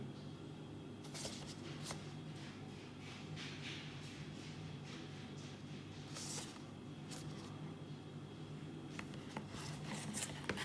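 Packaging for JBL C100SI earphones is opened with faint rustling and rubbing, broken by a few soft, sharp clicks and crinkles, quiet and close with no talking.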